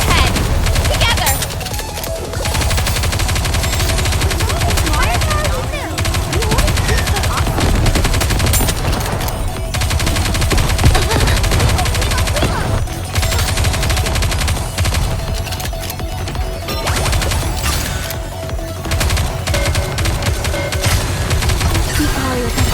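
Sustained automatic gunfire from the video game Goddess of Victory: Nikke, loud dense bursts of machine-gun fire rattling almost continuously with brief gaps and occasional booms, with game voices speaking at times over it.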